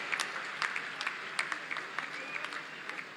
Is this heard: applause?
yes